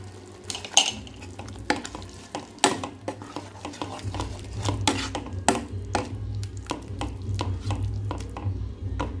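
Masala being stirred and sautéed in a pan with salt, chili powder and garam masala for homemade paneer butter masala, with repeated scraping and clinking of a spoon against the pan over a low steady sizzle, close and moderately loud.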